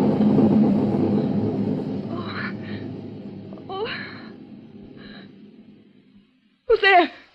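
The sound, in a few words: thunder rumbling, radio drama sound effect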